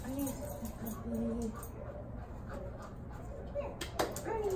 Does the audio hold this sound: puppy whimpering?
yes